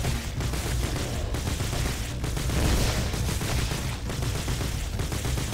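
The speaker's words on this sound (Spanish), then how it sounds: "Madre mía, cómo disparo" Rapid, dense gunfire from the roguelike shooter Doomsday Hunters, a continuous loud barrage of overlapping shots with periodic heavier bursts and no talk over it.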